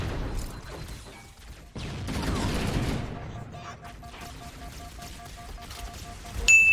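Bursts of gunfire crack through a Halo firefight, irregular shots and rattling volleys at moderate distance with a brief lull, ending in a louder burst.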